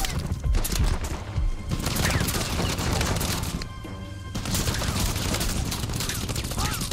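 Gunfire in the video game Uncharted: The Lost Legacy, a dense fusillade of rapid shots and impacts that runs almost without pause, loud and close, with a brief lull near the middle before the firing resumes.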